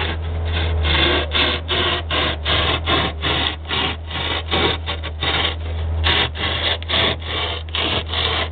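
A homemade hot wire cutter slicing polystyrene foam: a steady, loud rhythmic rasping and rubbing, repeated strokes at an even pace over a constant low hum, no talk.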